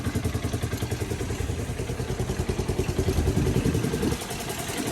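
A Polaris 500 golf cart's small engine, just pull-started, runs steadily at a fast, chugging idle, loud and close, with a rhythmic pulsing beat before it briefly dips near the end.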